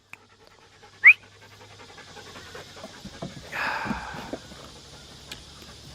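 A dog pants steadily and close by around a hay-season farm setting, with a sharp brief noise early on and scattered clunks and rustles under the rhythmic breathing.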